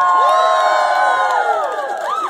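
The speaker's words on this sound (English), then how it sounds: "Give him a big round of applause" A crowd cheers and whoops for a performer being introduced at a freestyle show, loud voices shouting and hollering together close by, with rising and falling yells and no clear clapping.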